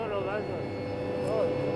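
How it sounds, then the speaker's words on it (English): A helicopter flying over mountains gives off a steady, droning engine roar with a continuous mechanical hum, with no breaks and no change in level. "Helicopters mean danger."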